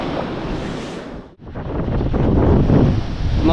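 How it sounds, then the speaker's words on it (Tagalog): Strong gusty wind at the seaside after a night of heavy wind and rain, roaring loudly in the microphone with a brief lull before surging back, alongside a wash of surf. "kagabi sobrang lakas ng hangin at ulan. So, ito ngayon malakas pa rin"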